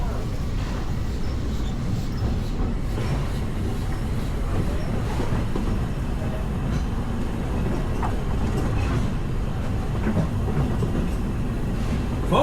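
The Walt Disney World Railroad train at Magic Kingdom rumbles steadily along its tracks, a continuous low rolling roar with faint rattles and clicks from the carriages.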